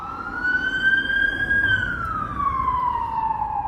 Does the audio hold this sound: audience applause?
no